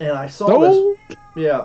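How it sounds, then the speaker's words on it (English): A senior house cat howls and meows in long, wavering, drawn-out yowls close by, set between short stretches of people talking. "You can hear my senior cat howling at the moon right now."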